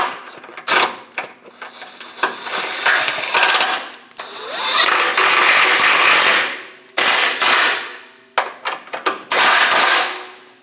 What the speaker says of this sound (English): Snug both bolts down.